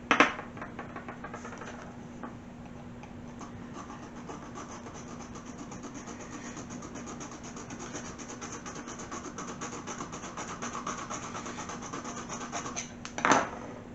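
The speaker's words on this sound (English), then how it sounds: "So let's go ahead and keep filing on this side." A hand file rasps steadily across a car key blank being cut, a quiet continuous scraping that runs throughout, with a sharper clack at the start and near the end.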